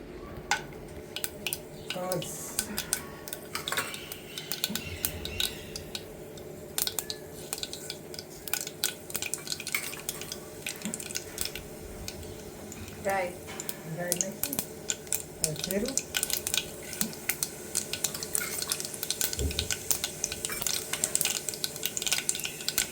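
Gram flour and buttermilk being stirred for kadhi in a home kitchen pot, with scattered clinks of a spoon against metal and soft sloshing under nearby talking and background household noise.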